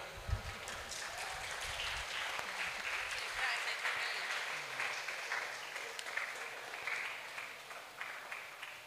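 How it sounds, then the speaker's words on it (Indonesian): Audience applause during an official's speech at a religious affairs office event in Aceh, a continuous moderate wash of clapping from a hall-sized crowd, with some low murmuring beneath it. "Ini boleh tepuk tangan."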